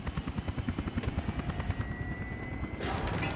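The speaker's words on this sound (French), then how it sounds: "l'hélicoptère qui transporte les passagers peut aussi transporter" A passenger transport helicopter in the video game Soviet Republic thumps with fast, regular rotor beats, loud and steady, joined by a whining engine tone and a louder turbine rush near the end.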